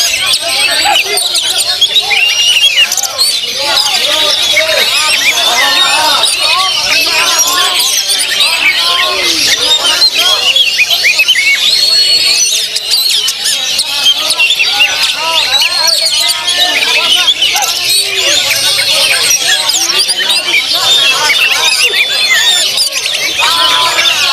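Oriental magpie-robin (kacer) singing at a songbird competition, a dense stream of bright chirps and whistles mixed with many other competing birds, loud and continuous throughout with some talk underneath.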